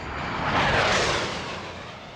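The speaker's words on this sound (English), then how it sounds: "We're going to come back here with the 2 A-10s and show you a high-speed, low-speed pass." An A-10 Thunderbolt II jet of the 131st Fighter Squadron makes a pass, a broad jet roar swelling to a peak and easing off as it goes by.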